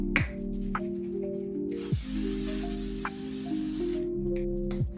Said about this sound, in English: I'm gonna add a little bit of this Infallible Setting Mist